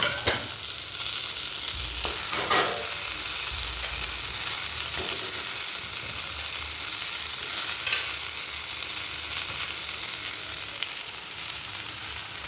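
Chicken sizzles loudly in oil with well-fried spice masala, a constant dense hiss broken by a few clattering stirs of a utensil early on, and nobody speaking.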